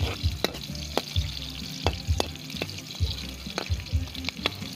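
Onions sautéing in a pan over a wood fire while preparing squid adobo: a steady close sizzle with sharp clicks and scrapes of stirring at irregular intervals.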